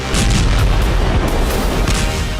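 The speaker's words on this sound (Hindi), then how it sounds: "दावा है यहां एक के बाद एक कई धमाके देखे।" Loud, rumbling booms from a drone attack on a plant, overlapping one after another, a heavy continuous roar of blasts with deep low-end thuds.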